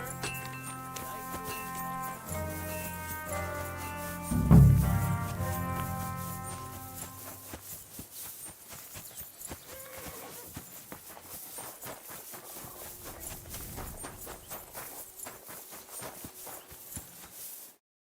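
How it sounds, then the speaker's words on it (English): Horses' hooves clip-clop in steady rhythm on ground in the medieval video game Kingdom Come: Deliverance II, moderately loud beneath music that fades, with a heavier thump early on. "Lovely horses you have here."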